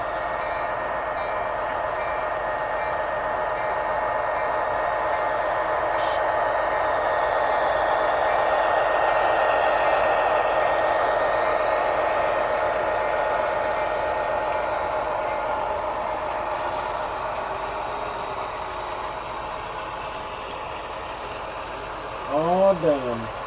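A model train locomotive runs on a small loft layout, a steady mechanical hum and rumble that swells and fades over time, with a brief sharper squeal near the end.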